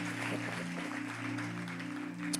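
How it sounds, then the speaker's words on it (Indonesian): A congregation claps at a church service, a dense, steady patter of hands over sustained musical tones. It carries on evenly for a couple of seconds. "Berikan tepuk tangan kita untuk Tuhan kita."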